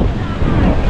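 Monsoon sea waves wash onto a Goa beach, a steady broadband roar of surf with wind buffeting the microphone, loud and continuous for the whole second with no clear voices.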